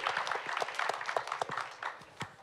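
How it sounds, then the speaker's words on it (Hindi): An event audience applauds Vedanta Limited chairman Anil Agarwal, with a quiet, scattered patter of many hands clapping and individual claps standing out, continuing steadily throughout. "एक बार जोरदार तालियां हो जाए अनिल जी के लिए"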